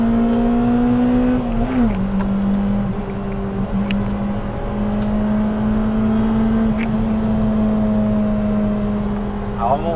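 A Honda Civic Type R engine drones steadily, holding a constant pitch with a brief rise early on, humming close and continuous for the full stretch.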